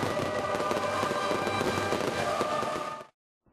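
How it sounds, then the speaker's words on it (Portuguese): A fireworks show closing an event crackles and booms continuously in a dense, loud wash of bursts for about three seconds before cutting off abruptly. "O evento encerrou com um show de fogos de artifício."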